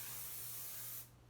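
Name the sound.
long spray of hairspray onto hair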